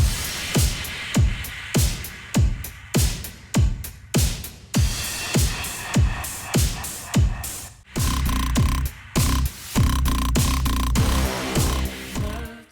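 Synthwave drum loop with post-production processing and reverb, a steady punchy kick-and-snare beat with a washy tail, then dense synth layers join partway through, moderately loud with no talking.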